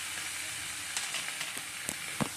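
Potato and taro pieces hit a pan of well-fried spice paste for a Bengali labra, giving a steady soft sizzle with a few sharp crackles and pops close by.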